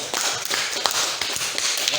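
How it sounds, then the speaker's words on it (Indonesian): A classroom of students claps for the first presentation group, producing dense, close, steady applause with sharp individual claps, while a voice speaks over it. "Boleh tepuk tangan buat kelompok"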